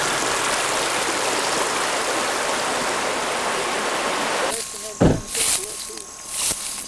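Steady broadband rush of creek water flowing past a bend, continuous and fairly close for the first four and a half seconds, then giving way to quieter moments with scattered knocks and faint voices.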